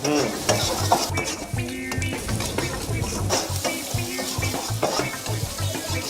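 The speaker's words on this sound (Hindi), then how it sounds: "अच्छा, थोड़ा देर फ्राई करेंगे।" Onion, garlic, ginger and chopped chili frying in a pan, with a dense, steady sizzle under repeated spatula scrapes and knocks against the pan, close and constant, without talk.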